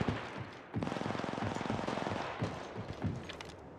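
Rapid automatic gunfire in the mobile shooter Apex Legends Mobile, a steady close stream of shots that starts after a short pause, runs for about two seconds, then breaks into scattered bursts.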